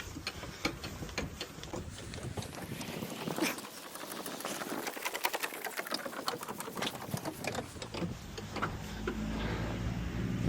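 A DAF LF truck's hydraulic cab lift is worked by hand, giving a steady run of quick mechanical clicks and pumping strokes at close range with no talking.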